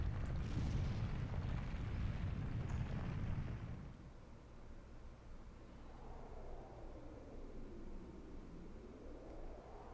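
Hyrule Castle collapsing in the video game Ocarina of Time 3D: a loud, dense rumbling roar for about four seconds, then a quieter low rumble with a faint rising and falling tone, with no voices.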